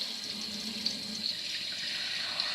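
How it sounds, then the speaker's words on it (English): Hot tap water runs steadily into a pot on a kitchen stove for homemade tomato chickpea soup, a constant hiss and splash at moderate distance with no speech. "turn on my hot water, and I am just going to put a little bit of hot water in there"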